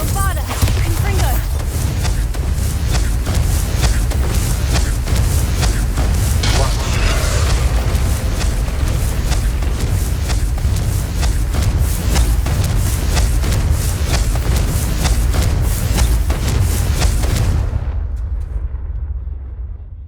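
Confringo and Bombarda spell explosions in Hogwarts Legacy erupt as a dense, loud barrage of overlapping booms for most of the stretch, with shouted incantations over them, before cutting off abruptly near the end.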